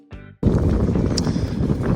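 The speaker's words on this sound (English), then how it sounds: "It's a miserable, windy, wet, damp morning." Loud, steady wind buffeting the microphone outdoors on a wet, damp morning on a dairy farm, a roaring rush that starts abruptly after a brief quieter moment.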